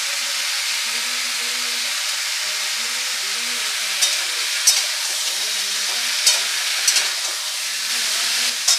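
Hog plum chutney sizzles and fries steadily in a pan while a spoon stirs it, with several sharp scrapes and clinks against the pan rising above the continuous hiss.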